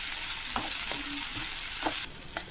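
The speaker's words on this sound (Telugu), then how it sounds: "ఇప్పుడు మంచిగా కలపాలి." A tamarind-leaf egg curry cooks in a pan with a constant low sizzle while a spoon stirs it, giving several brief scraping strokes and light knocks close up.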